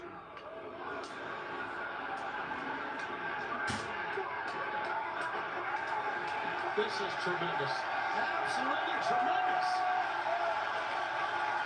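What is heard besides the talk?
wrestling crowd cheering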